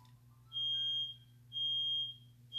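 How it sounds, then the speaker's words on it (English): A smoke alarm sounds in repeated loud, high-pitched beeps, each lasting about half a second, over a low steady hum. "I hear the smoke alarm."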